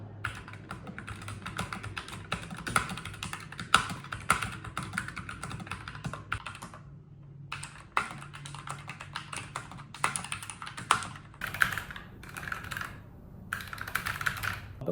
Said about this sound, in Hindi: अब चेक करते हैं इस कीबोर्ड की आवाज़ कैसे आती है जब हम इसके ऊपर टाइपिंग